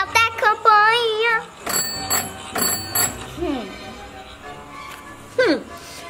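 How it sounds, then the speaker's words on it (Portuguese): Doorbell on a house in a children's cartoon, several bright ringing chimes sounding amid animated children's voices and playful sound effects. "Tem até campainha."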